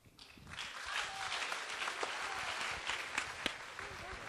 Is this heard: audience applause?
yes